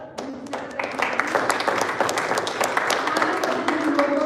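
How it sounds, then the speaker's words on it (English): A meeting audience at a speech marathon applauds, with steady dense clapping from a small room of people that holds for several seconds at moderate loudness. "give a round of applause to all of you who are so attentively listening to the meeting"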